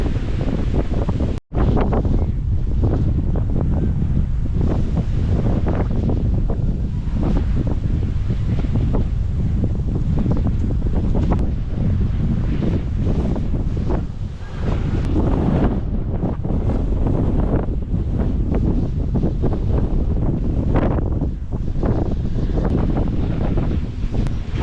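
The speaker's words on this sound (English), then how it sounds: "westbound winds are blowing very fast here" Strong westbound wind blowing outdoors, a loud, unbroken roar buffeting the microphone throughout, with low rumbling gusts and one brief dropout near the start, and no talk.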